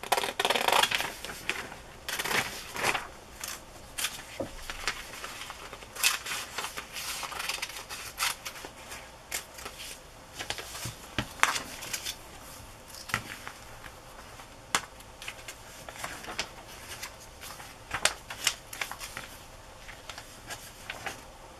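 Scissors snipping through glossy magazine pages, cutting out images for a collage: a steady run of short, crisp clicks and paper rustles, close and fairly quiet, with no talking.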